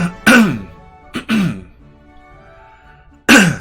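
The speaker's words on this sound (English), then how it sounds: "Still clearing my throat a little bit here." A person clears their throat in two loud, rasping bursts, pauses, then gives a third forceful clearing close to the mic.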